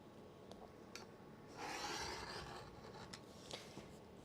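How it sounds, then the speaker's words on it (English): Fabric is cut to trim the edge of a quilt block, a single soft rasping stroke lasting about a second and standing out in the middle of a quiet room, with faint taps before and after. "take that last little, trim that last bit off on this side"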